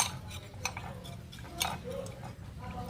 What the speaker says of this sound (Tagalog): Tunawin natin ng maigi.